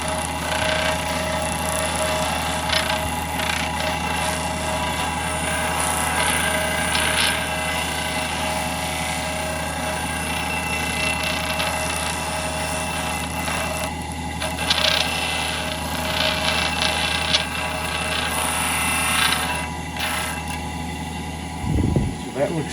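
Power sander working on cut wooden arm lengths for a recipe stand, a steady loud droning whine running nearly unbroken, with a few brief surges and a low thump near the end.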